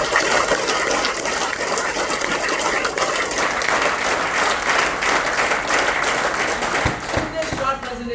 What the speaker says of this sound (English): Can all of you give a thunderous applause for that?